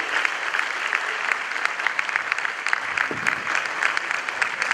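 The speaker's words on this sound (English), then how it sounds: "Please give a round of applause to him." An audience at a Supreme Court 150th anniversary ceremony applauds the guest speaker, steady crowd clapping with sharp individual claps standing out, moderately loud throughout.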